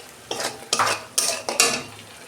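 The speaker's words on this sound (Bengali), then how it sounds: "2 মিনিট আমি ভালো করে কষে নেবো মশলাটাকে।" Chili powder and turmeric spice paste being stirred and sautéed in a pan for an aloo chingri prawn and potato curry, several distinct scraping strokes in quick succession over a low sizzle, close and clear with no talk.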